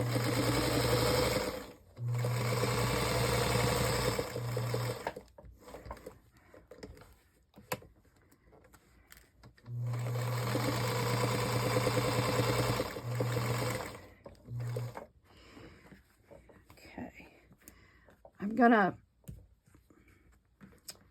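Sewing machine stitching a fabric journal cover, two long steady motor runs with a humming whir and rapid needle chatter, close by, followed by softer handling noises and a brief voice.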